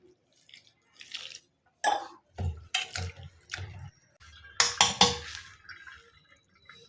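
Water is poured into soaked fruit pulp in a bowl, giving a handful of short, separate splashes, drips and squelches with quiet gaps between them, close by and fairly soft.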